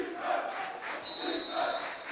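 Crowd noise buzzing through a high school basketball gym during a varsity game, a steady dense murmur of many voices with swelling cheers, plus a sustained high whistle-like tone partway through.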